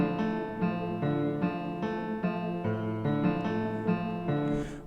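Hip hop beat led by an up-front Afro-Cuban piano with arpeggiated chords sitting further back under an underwater-style effect, playing a steady looping pattern of repeated chord stabs.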